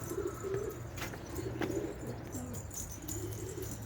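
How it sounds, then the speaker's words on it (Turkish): Pet pigeons coo steadily at feeding time, a soft continuous chorus of low burbling calls with occasional chirps and a brief flutter of wings close by. "Şimdi sizlerle biraz bir aç kuşlarımızı yem atalım."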